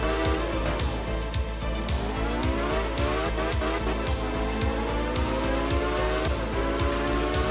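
Rally car in art of rally with both supercharger whine and turbo flutter, engine droning loudly and steadily throughout, rising and falling pitch sweeps and rhythmic pulses as it races, with tire squeal.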